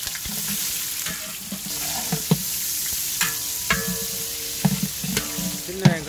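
Dried red chillies frying in hot oil with garlic in a pan for bisi bele bath, a steady close sizzle broken by sharp clanks and scrapes of a stirring ladle, no talk.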